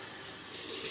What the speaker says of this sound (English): Right, I just rinse off.